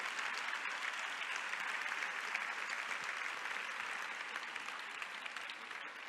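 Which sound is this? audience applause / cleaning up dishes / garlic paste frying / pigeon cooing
audience applause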